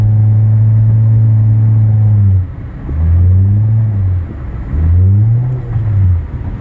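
A 2013 Nissan Altima with its mufflers deleted gives a loud, deep engine and exhaust drone, rising and falling in three revving swells with pauses between, close and with no voices.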